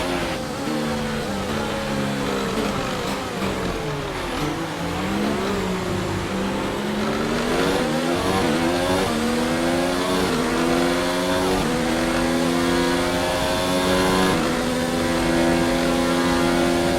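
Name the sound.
F1 2019 race car engine from a video game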